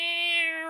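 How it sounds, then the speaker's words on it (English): A single drawn-out cat meow, close and clear, rising slightly in pitch at the end. "Meowing, you whining beast"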